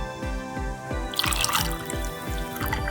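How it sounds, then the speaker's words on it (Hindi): Kheera (cucumber) juice poured into glasses over ice, heard as a steady liquid stream with a run of regular dripping, splashing pulses, close and fairly loud with no talking. "सबसे पहले हम ग्लासेस में डालेंगे बर्फ़, और अब डालेंगे हम जूस।"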